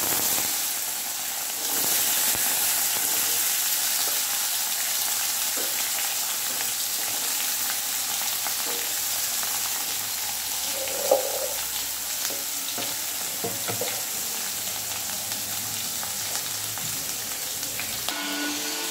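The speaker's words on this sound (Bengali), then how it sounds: "আলুটা ভাজা হয়ে গেছে" Potatoes fry in hot oil in a home kitchen pan, a steady dense sizzle running throughout with a brief brighter crackle near the middle and no voices.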